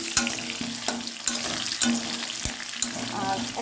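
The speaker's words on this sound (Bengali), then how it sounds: "আলু ভাজছি" Potatoes fry in a pan with a steady close sizzle, broken by a few sharp spatula knocks and stirring scrapes at irregular intervals.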